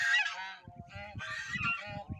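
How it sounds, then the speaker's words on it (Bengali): Domestic geese with goslings nearby let out a run of loud, nasal honks close by, several calls overlapping in quick bursts with brief pauses between. "দেখেন রাজহাঁস, কত সুন্দর রাজহাঁস, সাথে রাজহাঁসের বাচ্চা।"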